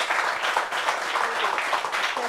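A room of people applauds at a French gathering about separation and co-parenting, brief steady clapping that stays loud and dense throughout.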